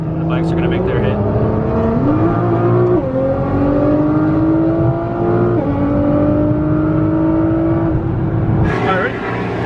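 Street racing motorcycles rev hard, engine pitch climbing in several rising steps before the group rolls out together, loud and close, with a burst of revving at the end.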